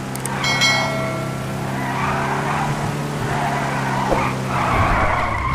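A car skidding in the video game GTA V roleplay, a sustained tire squeal with engine drone that holds steady for several seconds, loud and close with no talk.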